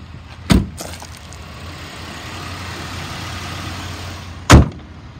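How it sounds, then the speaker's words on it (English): A 2007 Chevy Impala LT FlexFuel runs at a low, steady idle, with two sharp, loud thumps about four seconds apart. "It idles nice and smooth, and it revs up nice."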